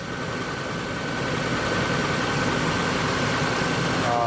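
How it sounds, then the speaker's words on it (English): A 1958 Ford F250 engine idles steadily, a low continuous rumble with a faint rhythmic tapping knock running through it, no voices. "So this engine does have a knock."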